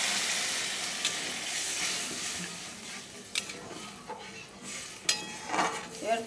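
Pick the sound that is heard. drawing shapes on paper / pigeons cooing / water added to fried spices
water added to fried spices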